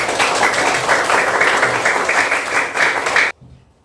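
Classroom applause from a group of schoolchildren and their teacher, a steady dense patter of clapping that stops abruptly near the end.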